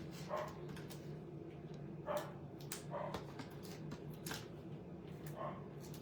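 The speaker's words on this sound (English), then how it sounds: "Can you hear my dog barking in the background? I think the dog next door is outside." A neighbour's dog barks outside in the background, several faint, distant barks spread out over a steady low hum in a home crafting room.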